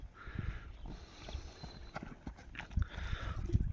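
Horse hooves clopping along a gravel road at a run, a steady series of close, fairly loud hoofbeats with some scattered background noise.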